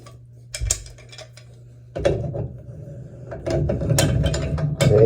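Channel locks clicking and grinding as they tighten a puller onto a Moen 1225 faucet cartridge, a low hum under intermittent metallic clinks and scraping, close and moderately loud.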